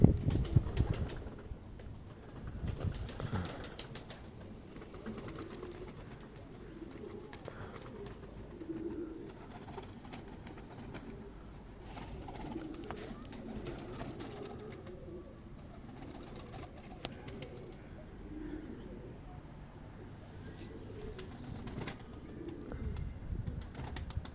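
Young Iraqi tumbler pigeons fly close by, with bursts of flapping wings and soft cooing scattered over a quiet outdoor background, the wingbeats loudest at the start and recurring irregularly.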